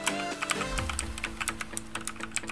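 Rapid, uneven clacking of keys on a Motospeed CK666 mechanical keyboard, close and crisp, with a faint steady tonal hum underneath throughout.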